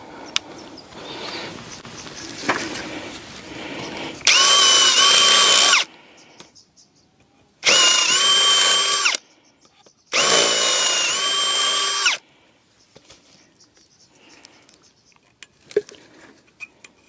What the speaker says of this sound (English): More drilling noise.